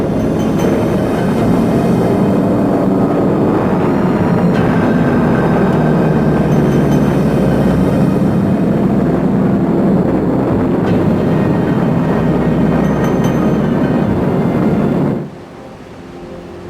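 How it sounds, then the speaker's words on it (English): Forty Stuka dive bombers in a power dive through an anti-aircraft barrage over a 1942 Malta convoy make a loud, unbroken roar for about fifteen seconds, then cut abruptly to a quieter background. "40 Stuka bombers go into a power dive through the barrage"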